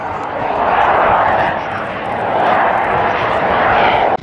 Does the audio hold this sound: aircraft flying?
yes